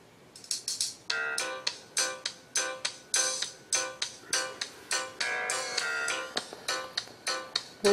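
Music blares at near maximum volume from an HTC Titan phone's built-in speaker, a loud, full run of rhythmic, punchy notes with no other sounds around it.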